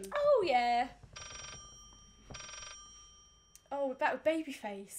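A telephone rings in the horror video game Layers of Fear, two long bursts of ringing separated by a pause. Someone talks before and after the rings.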